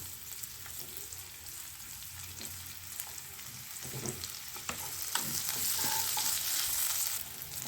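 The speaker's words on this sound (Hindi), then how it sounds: "दोनों तरह के प्याज को हम डाल के थोड़ा सा फ्राई कर लेंगे" Oil sizzles steadily as onions fry in a pan while a utensil scrapes and stirs now and then, the frying growing louder toward the end.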